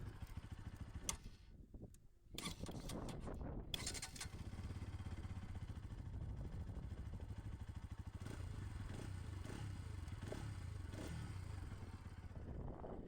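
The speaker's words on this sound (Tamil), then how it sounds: "ஃபஸ்ட் எக்ஸாஸ் நோட் நீங்கள் கேட்டுருங்க" A 2025 Bajaj NS200 motorcycle exhaust rumbles steadily at idle, a low throbbing note with a few clicks and clatters early on.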